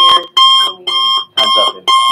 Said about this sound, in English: That's a very kind timer.